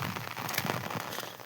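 Rain falls in a rural herders' settlement during the monsoon, with animals sheltering under a neem tree. It is a faint, even patter of drops on surfaces with no talk.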